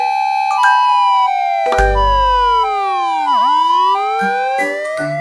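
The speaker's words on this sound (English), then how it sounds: "I'm an ambulance, rushing through the magical city to help and heal" Ambulance siren wailing loudly and close up, its tone sweeping up and down in repeated cycles, with bright synthetic chimes and effects mixed in.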